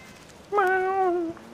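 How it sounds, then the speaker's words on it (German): A single drawn-out cat meow in the video game Fallout 4, clear and close, sliding slightly downward in pitch before stopping. "Ich höre dich, Katze."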